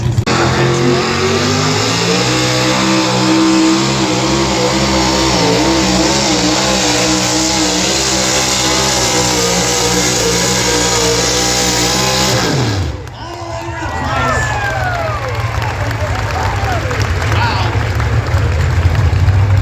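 A drag race car roars at full throttle, a loud rising engine howl with stacked harmonics that cuts off sharply near the end, under an announcer's excited commentary at a racing event.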